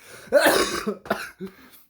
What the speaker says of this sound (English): Got me coughing